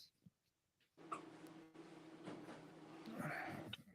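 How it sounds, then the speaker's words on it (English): A dog barks from inside a garage during a late-night whiskey tasting, the sound muffled and fairly faint, a few short yips over low room noise. "He's in there barking like crazy."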